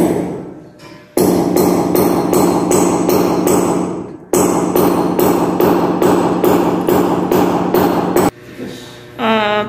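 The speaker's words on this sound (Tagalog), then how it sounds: "try nyo pukpukin ng martilyo para malaman nyo kung gaano siya kakapal" A hammer taps repeatedly on a smooth duplex floor to test its thickness, giving loud, close, evenly spaced ringing knocks in two bursts separated by a brief pause, then quieter noise at the end.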